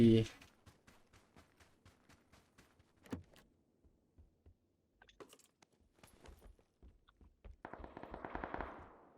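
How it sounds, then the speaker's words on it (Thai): Rapid bursts of automatic gunfire in the shooter game PUBG Battlegrounds, with several quick volleys and single shots, some nearby and some distant, while players talk over them. "มันยิงอยู่ข้างกูเลย"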